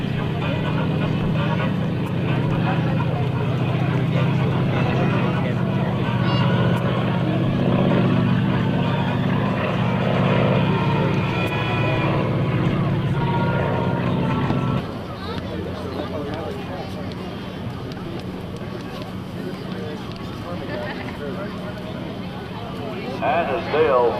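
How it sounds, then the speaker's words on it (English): A big T-6 warbird roars low along an airshow runway in a wheel landing on its main gear, a steady heavy engine drone that drops slightly in tone partway through, with an announcer talking over it throughout. "as Dale puts the big T6 on his main landing gear, practicing the wheel landing"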